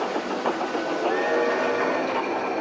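A train running on rails, with a steady continuous rumble and clatter of wheels on track, fairly loud and unbroken throughout with no voices.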